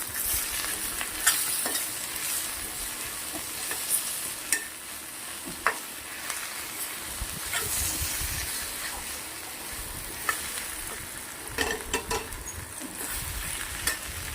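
Potatoes with red chili powder, garam masala and salt being stir-fried in a pan, a continuous sizzle broken by scraping stirs and sharp clinks of the spoon on metal, fairly close.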